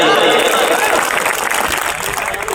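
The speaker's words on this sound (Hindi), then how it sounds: "एक बार तालियां बजाइए।" A crowd at an outdoor mushaira poetry gathering in Jharkhand claps in a loud, dense burst that gradually thins, with voices mixed in beneath the applause.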